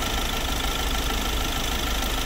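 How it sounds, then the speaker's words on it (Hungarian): Hyundai i30 1.6 CRDI diesel engine idling in the engine bay, a steady close diesel rumble with a light knocking clatter, continuous and even throughout, no voices. "Ezen a kellemes duruzsolásunk itt a motortérből."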